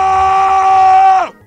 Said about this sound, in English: that was quite the scream, my man.